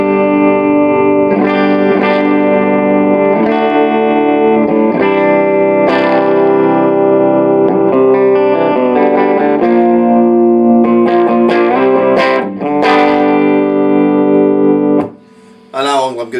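A single-coil electric guitar rings through a Randall RG80 combo amp on its clean channel, playing loud sustained chords and picked notes with a shimmery effect, ending in a brief pause and a few quick strums.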